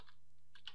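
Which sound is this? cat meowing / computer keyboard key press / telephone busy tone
computer keyboard key press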